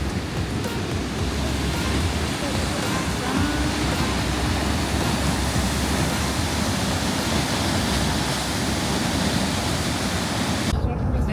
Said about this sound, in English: What did you think of the waterfalls